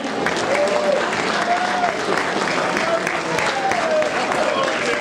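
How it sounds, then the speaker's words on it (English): Applause breaks out from an audience at a football club question-and-answer event in a town centre, a sustained clapping crowd throughout with some voices and cheers mixed in. "Round of applause for Benno."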